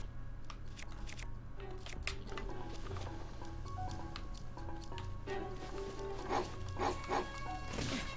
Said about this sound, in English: Wolves really bug me, because I don't like to kill them, because they sound like dogs